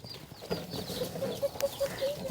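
Chickens going to roost make faint, short repeated clucks under a murmuring background, ending in a louder, closer call.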